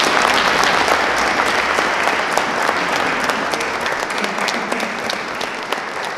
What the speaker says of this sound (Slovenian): Bravo, Urška, en aplavz za Urško.